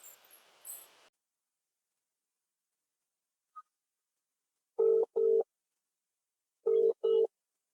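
A mobile phone call rings out as a ringback tone: two paired tonal bursts, evenly spaced a couple of seconds apart, clear and close after a brief faint rustle and near silence.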